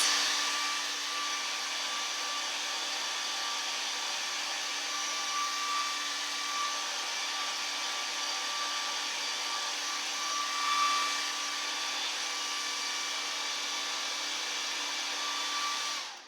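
An electric blower runs with a steady, loud whir the whole time while drying a vintage toy farm truck. The tone is constant apart from slight wavers, and the motor cuts off at the very end.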